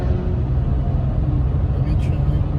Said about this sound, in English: I spotted Lightning McQueen.